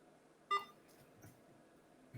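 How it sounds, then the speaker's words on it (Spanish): Short electronic beep recurring during a computer science lecture in a quiet room, one clear beep near the start and a fainter blip at the end. "En el BIP no lo pude eliminar nunca,"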